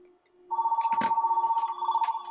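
An AT&T Merlin office telephone rings with a rapid trilling bell tone starting about halfway in and continuing steadily, with soft clicks and handling noises around it.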